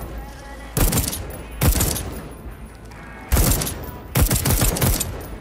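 Old-fashioned firearms fire in the video game Deathloop, four loud, close booming shots with short echoing tails spaced about a second apart over faint background ambience.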